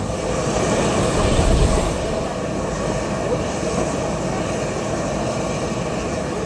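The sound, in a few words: mountain railway train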